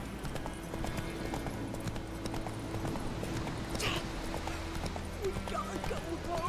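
A horse runs in The Witcher 3 video game, its hooves pattering in a quick, continuous rhythm under a low background hum, with a faint whinny-like cry near the end.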